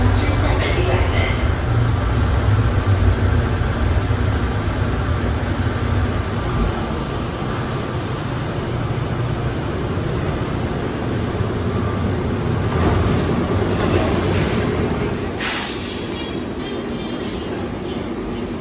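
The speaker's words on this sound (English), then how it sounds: "This train is stopping." An airport people-mover train at Hartsfield-Jackson Atlanta International rumbles steadily along its track, wheels whirring and occasionally squealing, with a constant loud hum throughout and no pauses.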